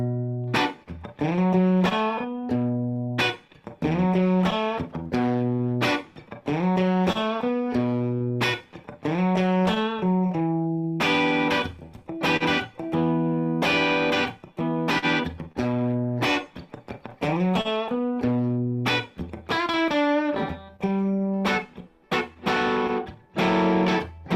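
An electric guitar with a slightly gritty, effected tone plays a steady 12-bar blues chord progression, strummed chords and shuffling riffs looping continuously without any voice.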